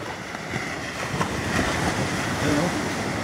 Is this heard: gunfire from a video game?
no